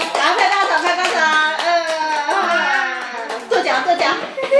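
Children clap their hands in a steady, close rhythm along to a nursery song while young voices sing over the beat.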